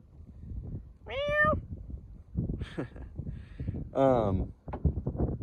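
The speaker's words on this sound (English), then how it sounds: "Look at a little cat." A cat gives a few short meows, close by, mixed with brief bits of a man's speech and light background noise.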